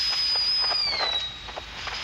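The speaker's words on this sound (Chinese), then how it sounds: "现在像这个割宝丽龙声音，其实都是喷气孔那个瞬间的那个高压的气体，像爆炸似的从喷气孔" High-pressure gas bursting from a volcanic fumarole, recorded as ground sound, makes a harsh hiss with a faint whistling tone and a few soft crackling pulses, steady and then easing slightly, with no talk.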